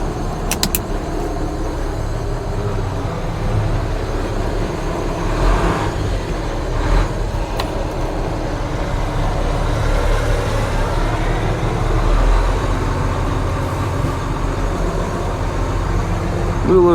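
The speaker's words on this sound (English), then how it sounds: "Wheel loaders are pretty easy to drive." A Volvo 150G wheel loader being driven, its engine giving a steady, loud low rumble that holds throughout with little change in pitch, close to the listener.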